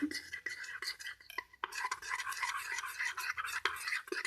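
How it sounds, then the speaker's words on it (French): A spoon scrapes and clinks around a mug as mug cake batter is mixed with dark chocolate, a close, steady stirring with soft scraping strokes and occasional light taps against the sides. "Maintenant, je vais mélanger ma pâte avec le chocolat noir."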